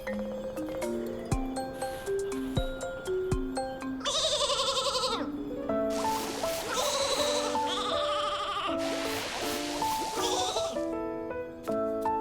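Sheep bleats from the Flora sheep in the video game Infinity Nikki, several loud wavering calls in a row, set over a light melodic game music background with chiming notes.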